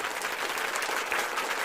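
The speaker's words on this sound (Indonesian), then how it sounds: "Tepuk tangan buat Tuhan Yesus." A church congregation claps for Jesus during a Christmas sermon: dense, steady applause from many hands, fairly close and even throughout, with no voices standing out.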